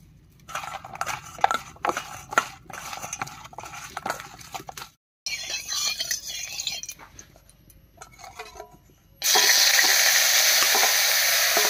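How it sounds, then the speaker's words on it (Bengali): Dried fish frying in mustard oil in a wok, a patchy crackle and sizzle with short gaps, then a loud, steady hiss of oil for the last few seconds; a voice speaks briefly in between. "এবারে কড়াইতে সরষের তেল দিয়ে মাছটা হালকা করে ভেজে নেব"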